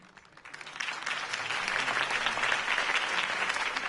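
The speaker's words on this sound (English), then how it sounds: "could have heard that applause" A large video game crowd applauds, the clapping swelling quickly from a few hands into sustained, dense applause that continues steadily.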